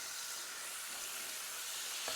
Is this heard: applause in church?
no